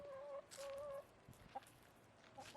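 A few backyard hens cluck softly nearby in short, scattered calls, quiet and close with no talking.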